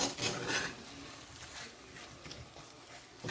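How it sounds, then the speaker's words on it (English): A spoon scrapes and stirs a sticky coconut drops mixture in a pot, soft rubbing and clinking at close range, heaviest at the start and then a low, steady churn with no talk. "So we'll continue stirring until it's reached that consistency."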